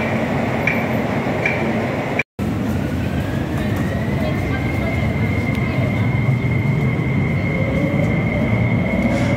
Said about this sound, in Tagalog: So ito na nga yung train na sinakyan natin. High speed train.